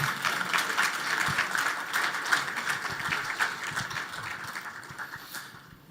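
A conference audience at a Bitcoin investor event claps in steady, moderately loud applause that fades toward the end, with no talking over it.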